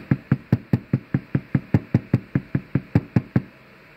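A drumstick tapping a homemade practice pad in a quick, even rhythm, about sixteen sharp dull knocks, close and clear, with no other sound.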